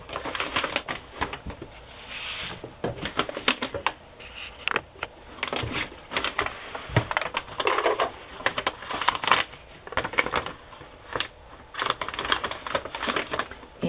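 A sewing machine runs a zigzag stitch with brown thread through layered fabric scraps and lace onto the edge of paper, giving bursts of rapid mechanical clatter with short pauses between runs, close and fairly loud, with no talk.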